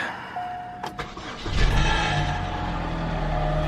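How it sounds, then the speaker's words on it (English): A car is started at a dealer pickup and settles into a running idle with a slight rattle, a steady mid-level engine hum after a brief starter whir, with no talking. "You guys hear that? Slight rattle."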